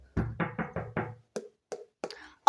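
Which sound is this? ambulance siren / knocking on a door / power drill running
knocking on a door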